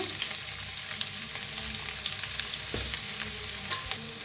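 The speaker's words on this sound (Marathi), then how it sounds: "तेल गरम झालं आहे त्याच्यात टाकूया अद्रक हिरवी मिरची" Ginger and green chillies frying in hot oil, a steady close sizzle with occasional stirring scrapes and no voices.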